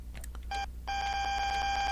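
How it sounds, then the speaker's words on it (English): The AWS self-test alarm sounds in the cab of a Great Western Express train in Train Sim World, first a short tone, then a loud, steady electronic buzz that holds on to the end of the clip. "That alarm is the AWS self-test system."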